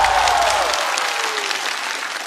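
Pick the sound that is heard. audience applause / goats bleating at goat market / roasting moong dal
audience applause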